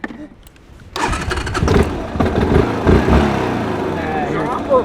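A vehicle engine cranks, catches and revs in a loud, rough burst that settles into an uneven running roar, heard close up outdoors.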